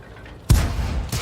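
T18 HMC tank gun firing in a tank video game, a single sudden loud boom with a deep low-end thump that rolls on into a rumbling tail.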